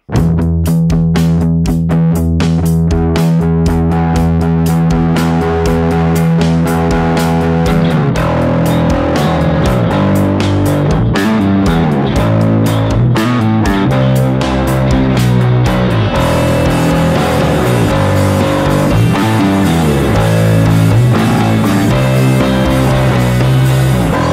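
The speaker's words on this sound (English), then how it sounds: "It's a high gain distortion with a new and unique circuit design." Bass guitar played through a JHS Hard Drive high-gain distortion pedal, loud and continuous with a thick, saturated tone and steady picked notes and chords throughout, with no talking.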